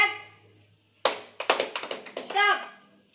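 A class of 7th-standard government school children claps after a spoken command, a quick ragged burst of about eight close hand claps. A voice follows briefly.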